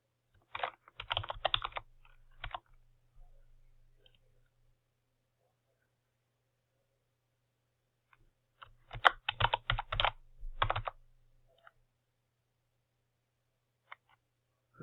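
Computer keyboard typing as login credentials are entered: two separate quick bursts of crisp key clicks, close and fairly quiet, separated by several seconds of near silence and ending with a couple of isolated taps.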